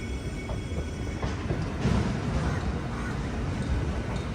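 A steady low rumble of a MEMU electric train bound for Chennai Egmore, idling or rolling slowly at Puducherry station, with faint clanks and hiss in the background.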